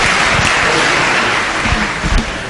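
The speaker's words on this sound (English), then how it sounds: "Applause, please." Audience applause at a Singapore Malayalee community book launch, a steady broadband patter of many hands clapping at moderate loudness without a break, filling the room right after a Malayalam song performance.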